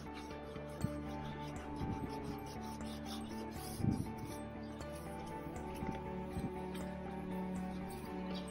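Rubbing and wiping strokes on a van headlight lens just restored with a kit, soft repeated swishes with a few louder scuffs, close and steady with no talk.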